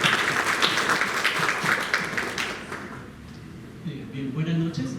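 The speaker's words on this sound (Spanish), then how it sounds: "Fuerte las palmas para él." An audience at a parenting talk applauds steadily for a few seconds, then the clapping fades and a voice begins speaking.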